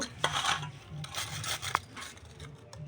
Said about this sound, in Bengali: যেসব বড় হবে সেসব ওই মানে শিলনোড়ায় গুঁড়ো করে নেব